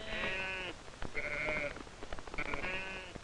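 Sheep raised in India's Ganges Valley bleat in three drawn-out, wavering calls separated by short pauses, close and fairly loud, with light clicks and shuffling between them.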